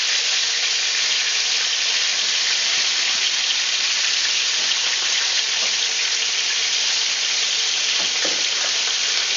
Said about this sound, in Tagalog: Now we can put the fish. And let's start frying.